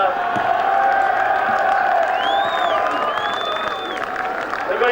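A large crowd roars and cheers at the 2003 Norwood versus Coldstream football grand final, a dense sustained wall of noise with whistles and whoops rising over it.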